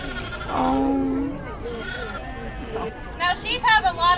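A sheep bleats at a fiber festival during shearing. One long, wavering bleat comes early, later a few short, choppy cries. Voices and crowd babble sit underneath.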